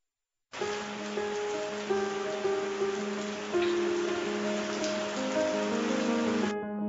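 Steady rain falls in Haryana during cold weather, a dense, even patter on surfaces that starts abruptly and continues alone at moderate level.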